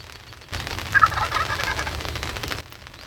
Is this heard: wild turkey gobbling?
yes